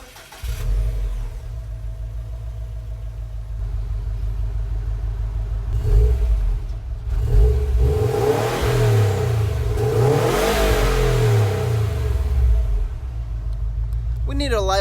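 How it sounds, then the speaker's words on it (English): Subaru WRX STI, 2019, with an Invidia R400 exhaust, idling with a deep rumble, then revving up repeatedly in loud, close bursts before settling back, with people talking faintly nearby. "So Exhaust clip."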